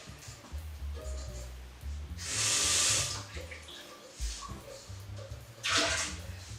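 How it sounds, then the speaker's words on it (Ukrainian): Water runs briefly from a tap into a pot, wetting its bottom before making plum jam, a short hissing pour in the middle, with a second brief splash near the end over quiet kitchen noise. "Дно каструлі змочую водою."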